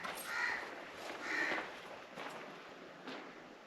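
Crows caw at a sea fort, two faint calls close together early on and another weaker one later, distant against a quiet hiss of wind.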